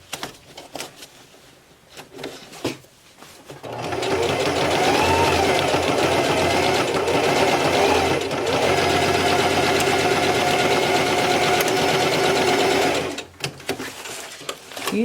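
Sewing machine running a very small stitch to hem the edge of a drawstring backpack's fabric, whirring steadily for about nine seconds with quiet moments before and after.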